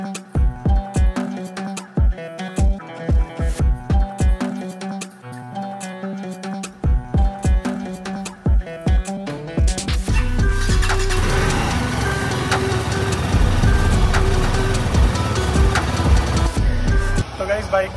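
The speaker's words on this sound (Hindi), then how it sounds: "यहाँ हमारी बाइक कोल्ड स्टार्ट हो रही है।" A BMW G310RR motorcycle goes through a cold start: a series of rhythmic cranking bursts, then the single-cylinder engine catches and settles into a loud, steady idle close by.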